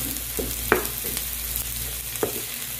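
Small shallots sautéing in a pan as the start of a tomato curry, a steady soft sizzle broken by a few sharp spatula scrapes and taps, with no talking.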